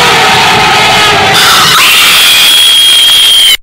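A girl screams long and loud at a frightening moment, the shrill cry holding for several seconds at close range before cutting off abruptly.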